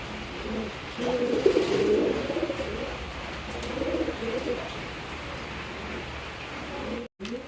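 A pair of muffed helmet pigeons coos softly in low, rolling phrases at close range, with faint steady background noise.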